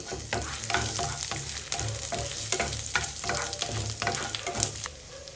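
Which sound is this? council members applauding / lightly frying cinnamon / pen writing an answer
lightly frying cinnamon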